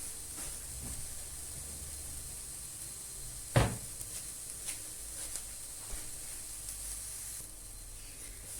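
Soft continuous sizzle of a kaygana omelette with dill frying in a pan, a faint steady hiss punctuated by one sharp knock and a few light clinks.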